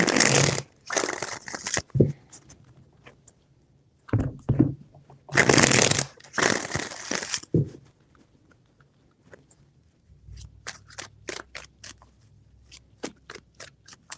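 Tarot cards are riffled and shuffled in several loud bursts, then tapped and squared in a string of quick, sharp clicks.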